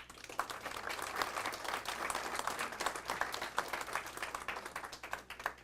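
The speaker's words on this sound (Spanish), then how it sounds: "el doctor René Valdivieso Sandoval, para quien también les pido un aplauso" An audience at a book presentation breaks into sustained applause, a dense, even wash of many hands clapping at moderate distance for several seconds.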